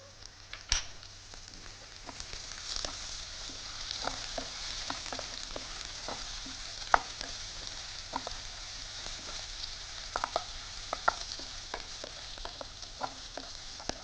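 Onions with green and dried red chillies sautéing in a pan, giving a soft continuous sizzle broken by frequent small pops and spatters, close and fairly quiet.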